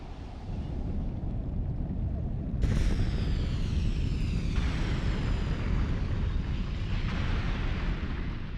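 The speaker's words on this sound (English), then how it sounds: "Anak let rip, hurtling rocks and lava onto the area where we had stood." Anak Krakatau volcano erupting and hurling rocks and lava, a continuous heavy roaring rumble that jumps louder and brighter partway through, with surging blasts layered over a steady low-frequency growl.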